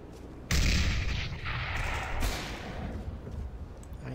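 Two loud, sharp gunshots crack in a video game, the first near the start and the second about two seconds later. Each is followed by a rolling echo that slowly fades.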